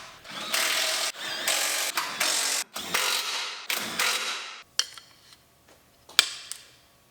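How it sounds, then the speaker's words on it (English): Close mechanical bursts of a tool driving bolts as skid plates go back on under a vehicle. Several sustained runs of whirring and ratcheting come in a row, then a few sharp clicks and clanks. "So we'll bolt those back in."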